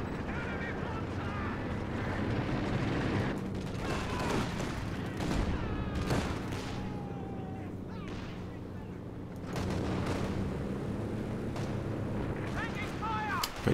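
Rocket artillery barrage in a Company of Heroes 2 3v3 match, heard as a steady mass of overlapping blasts and rumbling impacts over dense battle noise for the whole stretch, with voices talking underneath.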